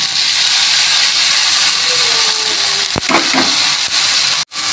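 Drained water lily stems go into a hot frying pan with small native shrimp, setting off a loud, steady sizzle and hiss, with a brief clatter as they land and are stirred.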